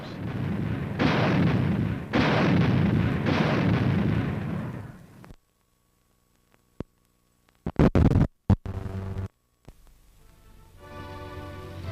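An automatic anti-aircraft gun fires shells in long roaring bursts, loud and harsh, followed by a sudden silence and then several sharp cracking shots and a rumbling tail.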